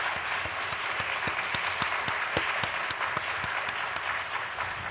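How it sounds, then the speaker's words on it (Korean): A church congregation at an Easter revival service claps along in a steady, rhythmic beat, sharp even claps repeating throughout over a dense crowd wash. "여러분 한번 박수 한번 다시 한번 줘봐요."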